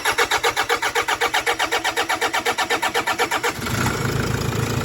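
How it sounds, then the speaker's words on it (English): A Toyota Hilux with a freshly fitted engine cranks over in a fast, even chugging rhythm for several seconds, then catches and settles into a steady, loud idle close by. "this is the Hilux with the new engine"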